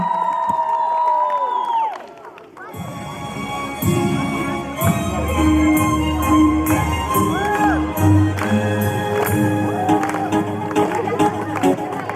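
A children's camp crowd cheers, shouts and claps for the fourth squad after a song at a talent show, the noisy burst starting abruptly after a quiet moment and continuing with whoops over scattered voices.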